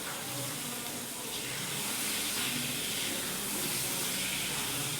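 Soaked whole masoor lentils are stirred into sizzling masala in a pan, making a loud, continuous hiss and crackle that holds steady throughout without any voices.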